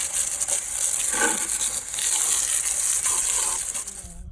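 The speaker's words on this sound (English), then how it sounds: "rinse with cold water" Cold water rinsing a dirty car wheel coated in brake dust, a steady loud hiss of spray and splashing that continues almost without pause, close up.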